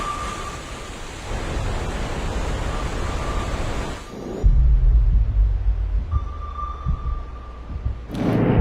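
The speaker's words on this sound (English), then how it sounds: "In this area, there's a huge number of waterfalls and you can go inside it." A waterfall near Canaima, Venezuela, gives a steady broadband roar of falling water that holds throughout, with a deeper rumble after the midpoint as the sound grows closer and heavier.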